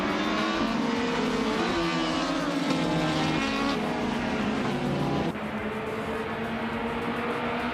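Race cars roaring off the start at Bahrain in a racing video game, led by a 2006 Peugeot 308, a dense, loud engine drone with shifting revs, continuous and close, no talk.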